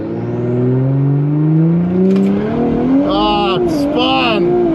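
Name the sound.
tuned Audi launching on a quarter-mile drag strip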